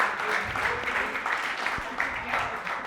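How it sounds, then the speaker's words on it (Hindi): Applause from a studio audience at a televised talent show after a kathak dance performance, a steady clapping texture with some voices mixed in, moderately loud and continuous. "जोरदार तालियां"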